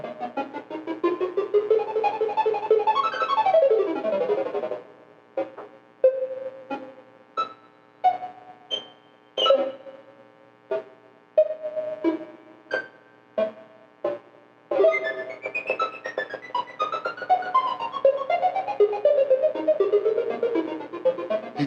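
Hand-drawn optical film soundtrack from the animated film Synchromy: synthetic tones in a fast run of pitched notes, then a long sequence of short, evenly spaced beeping pulses at shifting pitches, closing in a denser flurry of tones.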